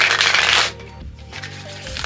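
Tarot cards being shuffled close up in a dense riffling burst, then a brief lull, then the shuffle starts up again.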